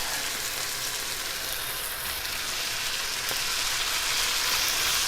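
Onions frying in a pan while cooking chicken, a steady, bright, close crackling sizzle that grows a little louder toward the end, with no talking.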